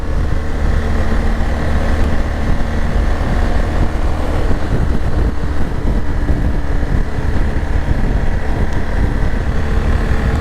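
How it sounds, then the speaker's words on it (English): A Triumph Tiger 1200 GT motorcycle engine drones steadily while riding through twisty roads, a loud, constant low rumble mixed with heavy wind buffeting at the microphone and no pauses. "Oh, this engine, I love it"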